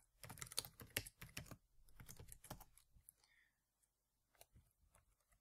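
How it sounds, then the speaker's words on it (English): Quick bursts of keystrokes on a computer keyboard, close and crisp, come in clustered runs with short pauses, then thin out to a few isolated taps; no voice is heard. "You just type here quick with capital letters, start the simulation"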